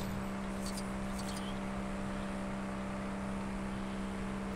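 Vehicle driving in LEGO Jurassic World, a steady, even engine whir and rumble holding at one level throughout, with a brief higher whine near the start.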